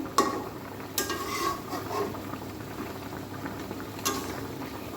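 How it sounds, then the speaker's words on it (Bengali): Koi fish curry in mustard oil bubbles and sizzles in a pan as it is stirred, a soft steady simmer close by, broken by a few sharp clinks of a utensil against the pan. "বেশ কিছুটা সরিষার তেল দিয়ে দিলাম এবার এটাকে একটুখানি নেড়ে ছেড়ে দেবো"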